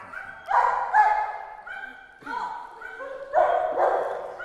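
A dog barks and yips in short bursts, a few in quick succession, close by and fairly loud, with light whimpering tones between the barks.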